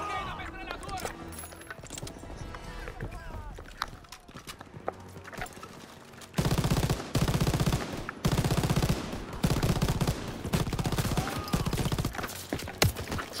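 Call of Duty WW2 campaign battle with sustained machine gun fire, dense rapid bursts rattling loudly through most of the stretch amid other combat noise, with voices shouting in the mix.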